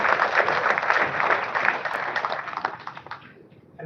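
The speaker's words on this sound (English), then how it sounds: "let's give these women leaders a round of applause for that." An audience at a Rotary district governor installation gives a round of applause, a dense burst of clapping that gradually thins to scattered claps and fades out.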